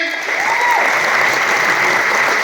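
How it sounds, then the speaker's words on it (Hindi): Loud, dense applause from an audience at a business experience-sharing event in India, a steady wash of clapping that holds evenly throughout, with a brief faint tonal sweep near the start. "एक बार जोरदार तालियां रेंचो जी के लिए"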